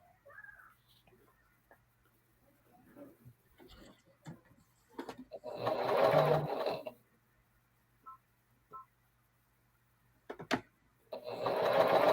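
A sewing machine stitches quilt half-square triangles together in two short, loud runs of rapid whirring, separated by quiet stretches with small handling noises.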